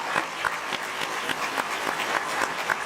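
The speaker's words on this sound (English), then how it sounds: "I think that deserves a round of applause" An audience at a nursing school pinning ceremony applauds in a moderate, steady round of clapping, with individual claps standing out rhythmically across a few seconds.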